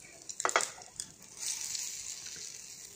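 Dhekia fern and lentil fritters fry in a pan. A few quick utensil clinks come first, followed by a soft, steady sizzle that stays faint throughout.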